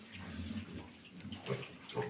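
Piglets on a small farm grunt and oink softly in short, irregular bursts close by, mixed with rustling and faint watery sloshing in the pen.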